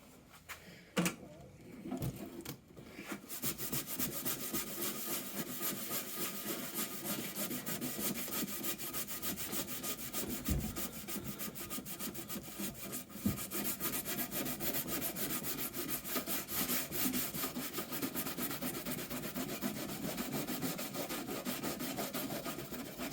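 Steady, continuous rasping as sandpaper and a scraper work black and yellow paint off a wooden top box, close and even in level throughout, with only a couple of brief knocks breaking the rhythm.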